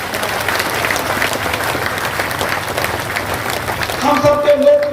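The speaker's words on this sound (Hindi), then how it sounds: "एक बार फिर जोरदार तालियां बजा के कैलाश जी वाले जोरदार सिमरिया वाली ताली" A crowd at a political party rally in Rewa's Semariya constituency breaks into sustained applause, a dense wash of clapping that swells toward the end, with a voice speaking over it.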